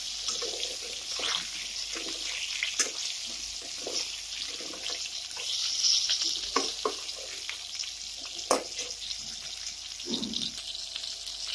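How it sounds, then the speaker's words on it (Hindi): Small eggplants with salt sizzle steadily in a pan, giving a constant bright frying hiss broken by soft scraping and stirring knocks. "तो नमक को हमने डाल दिए हैं और इसे अच्छे से भून लेते हैं।"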